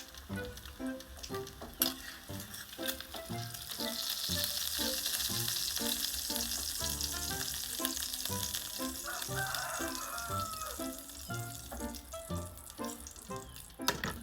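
A burger patty frying in a pan sizzles steadily and crackles, with rhythmic scraping and clattering from a utensil repeating throughout.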